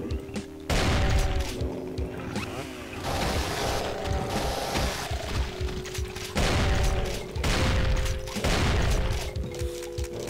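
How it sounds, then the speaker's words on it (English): Brutal Doom gameplay with exploding guts and gunfire, loud bursts of blasts and rattling weapon fire coming in repeated waves with short quieter gaps between them. "Exploding guts."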